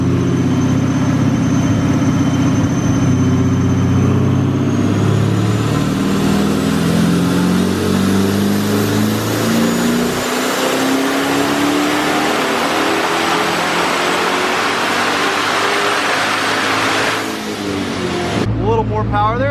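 A tuned car on a dyno makes a full pull with the diverters open, the engine roaring loudly as its pitch climbs steadily for about ten seconds, then holding high before cutting off sharply near the end.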